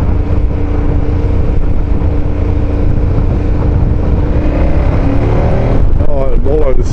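A KTM Super Adventure 1290 motorcycle under way in comfort mode, its engine droning steadily and then climbing in pitch as it accelerates. Heavy wind rush nearly covers the engine.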